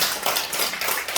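A congregation claps at a Sunday church worship service, a dense, steady burst of applause filling the short moment with no voices heard.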